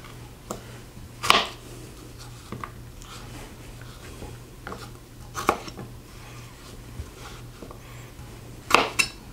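A knife cuts potatoes into small cubes on a board for fried breakfast potatoes, giving a few sharp, separate chops spaced several seconds apart over a quiet room hum.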